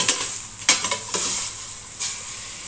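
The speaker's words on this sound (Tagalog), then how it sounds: "saka ko gigisahin ang ating sibuyas, bawang at luya" Onion, garlic and ginger sautéing in a cooking pot, close sizzling with several sharp scraping stirs of a utensil against the pot.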